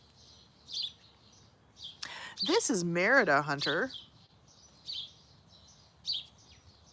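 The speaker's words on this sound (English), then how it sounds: "those birds are so loud" Birds chirp outdoors during a nature chat, sharp repeated calls in short bursts, moderately close, with someone speaking briefly midway.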